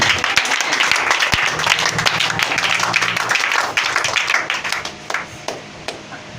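A church congregation claps and cheers in sustained applause, dense and loud, with the clapping thinning out toward the end and no talk over it.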